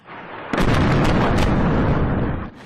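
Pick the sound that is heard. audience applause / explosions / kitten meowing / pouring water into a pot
explosions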